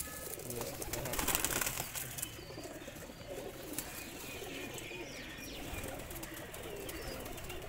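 Teddy pigeons in a loft setup, cooing softly at low level, with a brief burst of wing flapping near the start and a faint, steady background of birds.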